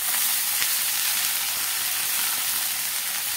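Washed greens hitting a hot pan already holding onion and dried red chillies, giving a continuous bright sizzle and hiss that holds steady throughout, with no voices.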